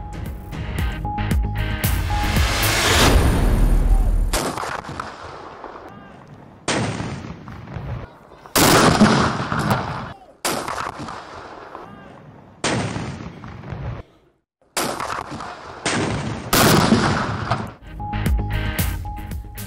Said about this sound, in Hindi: यौम पाकिस्तान पर दिन का आगाज तोपों की सलामी से हुआ।